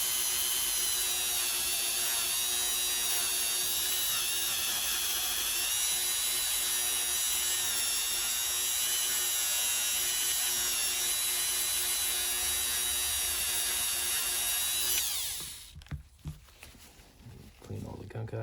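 A rotary tool spins at 10,000 RPM while polishing an AR-15 trigger, giving a steady, high-pitched whine that runs unbroken for about fifteen seconds before cutting off, followed by a few faint handling clicks.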